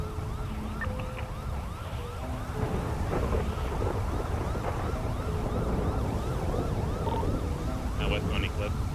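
Rain and thunder rumble through a stormy city in the video game GTA 5, mixed under a wailing emergency siren cycling repeatedly and scattered radio chatter.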